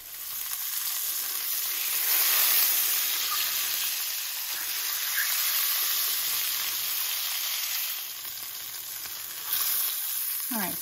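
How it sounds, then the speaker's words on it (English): Bratwurst frying in melted butter in a pan for a German Christmas dinner, a steady broad sizzle that runs on without a break, swelling and easing a little, with no voices. "I'm going to place my bratwurst into the butter, and I'm going to fry them until they're golden brown on all sides"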